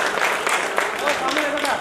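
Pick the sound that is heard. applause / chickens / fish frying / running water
applause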